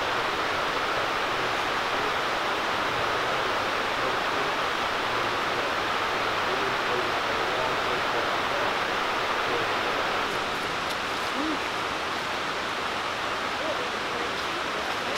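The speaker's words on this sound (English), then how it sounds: "This is Indian Creek." Indian Creek in the Great Smoky Mountains rushes steadily nearby, a continuous broadband wash of flowing water with no breaks, fairly loud and alone throughout.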